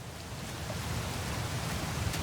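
Constant rushing waterfall ambience from Metal Gear Solid 3: Snake Eater, a soft, even roar of falling water with no breaks and no voices.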